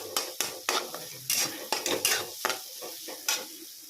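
Egg bhurji roasting and being stirred in a pan, a spatula scraping and clinking in quick irregular strokes over a light sizzle, close and fairly quiet with no talk.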